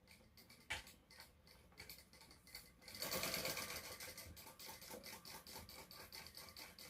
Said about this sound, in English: now I'm just going to sew this at the seam allowance in the pattern